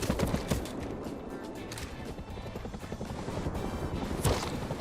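Defensive gunfire in the Rust survival video game: a dense, continuous crackle of distant rapid shots with sharper cracks now and then, steady and alone with no talk.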